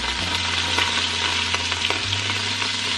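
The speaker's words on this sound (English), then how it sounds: "I've been sauteing 2 celery stalks and 1 white onion" Two celery stalks and a white onion sautéing in oil, a loud dense steady sizzle close up with faint stirring scrapes throughout, no voices.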